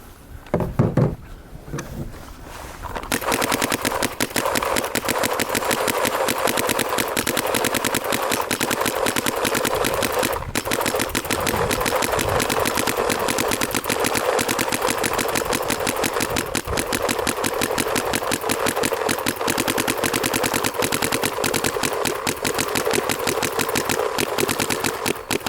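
An LV2 paintball marker fires on semi-auto during a cold weather test, a loud, rapid, steady stream of mechanical shots that runs unbroken for over twenty seconds after a brief quieter start.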